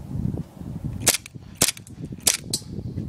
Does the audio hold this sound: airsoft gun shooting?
yes